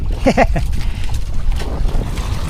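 Strong sea wind buffets the microphone in low, gusting rumbles on a night fishing trip aboard a small boat, close and loud, with a brief voice near the start.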